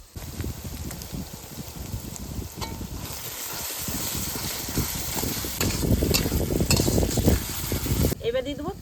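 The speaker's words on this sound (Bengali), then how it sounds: "আদা রসুন পেঁয়াজ একটু ভেজে নিয়েছি এবার দিয়ে দেবো জিরা ধনে একসঙ্গে বাটা" Cumin-coriander paste going into a pan of frying ginger, garlic and onion, a dense continuous sizzle with stirring rustles that grows louder midway, close with background rumble.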